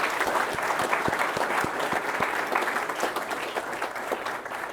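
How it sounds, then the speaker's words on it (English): Audience applause at the Newcastle launch of the Advance UK political party, a steady round of clapping from a sizeable crowd with a few sharp individual claps standing out, lasting several seconds. "Give yourself one huge round of applause."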